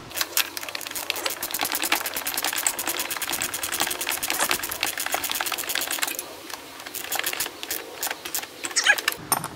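Wrench ratcheting a fitting tight during wire line installation for a new pump: a rapid, steady run of mechanical clicking with a brief pause near the end, close by and alone.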